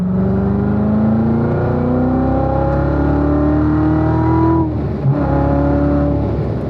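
A car accelerates out of a corner on the Spring Mountain race track, its engine climbing steadily through the revs in a loud, close, continuous surge before a brief dip and renewed pull.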